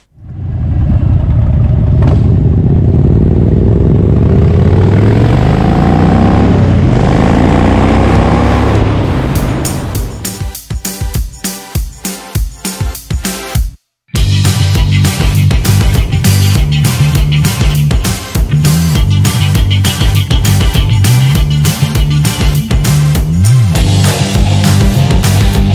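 Toyota Land Cruiser driving off near Natural Bridge on the NSW border, first a loud engine drone rising through revs, then a rapid rough clattering and thumping over uneven ground after a brief cut, close to the microphone.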